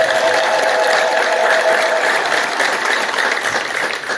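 A church congregation breaks into sustained applause with high ululation woven through it, a dense, loud wash of clapping that holds steady and fades slightly toward the end.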